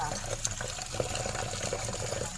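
Running water from a tap as oyster mushrooms are washed and rubbed under the stream, a continuous splashing flow with small clicks, close up and moderately quiet.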